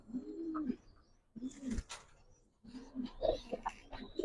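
A pair of pigeons offered for sale coo in short throaty bursts, several soft, separate calls with brief pauses between them, close and fairly quiet.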